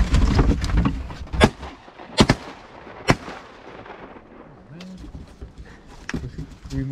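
Shotgun blasts ring out at ducks during a Wyoming duck hunt: three loud, sharp reports about a second apart, each with a fading tail, followed by hunters talking outdoors.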